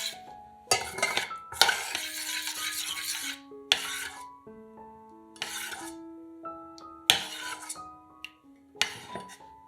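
Cooled chocolate glaze being stirred with butter in a bowl for a no-bake cake: repeated scraping, rasping strokes of a spoon against the dish in short bursts, close and clear, with faint background tones between strokes.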